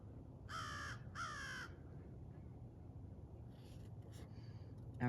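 Crows give two loud, harsh caws in quick succession, then fainter rasping calls follow over a steady low background noise outdoors.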